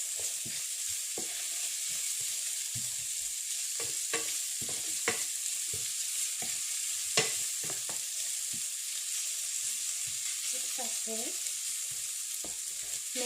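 Chicken sizzles steadily in a pan under a constant hiss of frying, broken by close, sporadic scrapes and clacks of stirring, with no talking.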